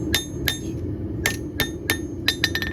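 Hand hammer blows shape a small hunting knife on an anvil, sharp ringing strikes arriving in an uneven rhythm, about ten in quick bursts, loud and close with no talk.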